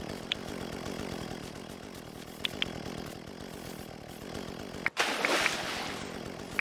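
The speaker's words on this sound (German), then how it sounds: "Du sollst doch nicht mit der Kettensäge ins Wasser." A chainsaw in the video game Dinkum, running steadily with a rapid buzzing chug, a few sharp clicks, and a brief cutout followed by a louder burst, heard alone and fairly faint.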